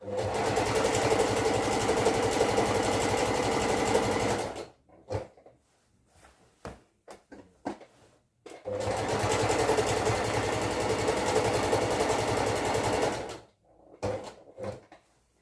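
A sewing machine stitches elastic in two long, steady runs of rapid mechanical whirring, each several seconds long, separated by pauses filled with small clicks and handling noises of fabric and the machine.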